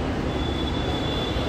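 A Bangalore metro train rumbles past with a dense, continuous roar and faint high wheel whine, loud and close, steady throughout the short stretch.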